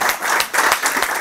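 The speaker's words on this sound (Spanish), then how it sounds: "les vamos a pedir un aplauso a todos ustedes para dar la bienvenida como se merece." Audience applause welcoming a lecturer at a talk on capitalism, a dense, steady wash of many hands clapping close and loud with slight swells, no voices over it.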